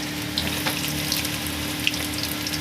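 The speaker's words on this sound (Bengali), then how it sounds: "তেলটা গরম হয়ে গেছে, রসুনটা ছেড়ে দিয়েছি।" Whole crushed garlic and chopped ginger fry in hot oil, giving a loud, steady hissing sizzle close by with no talking.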